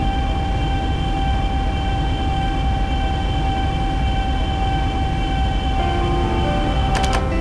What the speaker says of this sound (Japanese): ご注意ください電車入っております